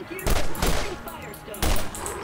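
Gunfire from the video game Borderlands cracks out in two or three loud bursts over a short, noisy stretch of game action, with sharp impacts close up.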